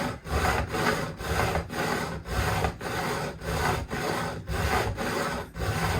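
Hand file rasping across the fret ends of a Rally GL300 guitar, trimming and bevelling them in steady back-and-forth strokes, about eleven even passes with brief pauses between, close and fairly loud.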